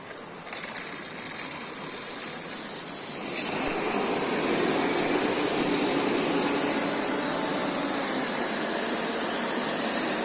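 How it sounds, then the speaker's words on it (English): A Pelton micro hydro turbine fed at 0.25 L/s from 41 m of head whirs up from a faint hiss to a steady, loud, high-pitched rushing whine that holds constant as it reaches speed, with no voices. "then you'll turn on the turbine"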